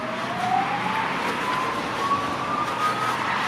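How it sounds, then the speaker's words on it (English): A faint siren slowly rises in pitch far off, heard over steady road traffic noise with no talking. "Is it ambulance, fire engine? Don't think it's police."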